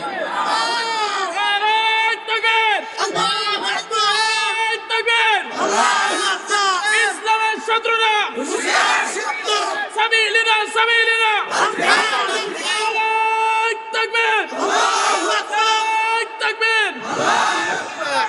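A large crowd at an Islamic rally roars back Allahu Akbar in answer to a takbir call, with loud, sustained massed shouting that rises and falls in repeated waves.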